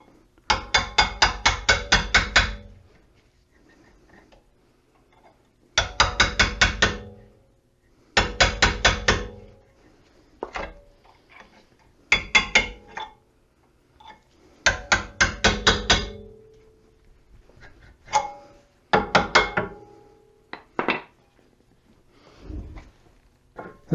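Hammer blows knocking a rusted inner brake pad out of the rear caliper on a 2008-2014 Mercedes-Benz C300, sharp metallic strikes in rapid bursts of several hits separated by pauses, close and loud.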